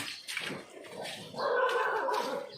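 A dog barks and whines near elephants outdoors, several short close yelps followed by a longer strained bark, with faint background noise.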